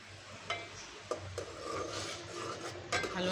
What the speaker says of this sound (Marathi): आपण त्यात हे पीठ टाकून घेणार आहोत.